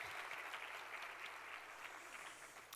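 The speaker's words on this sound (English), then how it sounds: "One more round of applause for an incredible visual of who we are." A conference audience at a Goodwill Columbus event claps in a steady, even round of applause that sounds distant and quite faint, continuing without a break for the whole short stretch.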